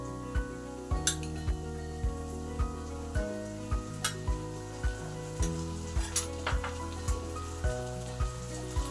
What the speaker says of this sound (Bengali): এবার আদা জিরে কাঁচা লঙ্কার যে পেস্টটা করেছি সেটাকে 2 চামচ দিয়ে দেবো।